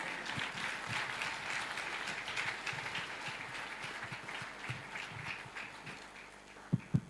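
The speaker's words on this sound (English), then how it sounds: "With a warm round of applause, please help me welcome our guest speaker" At a white coat ceremony for a university school of medical sciences, an audience gives a warm round of applause for a guest speaker, a sustained, even patter of clapping ending with a couple of louder thumps nearby.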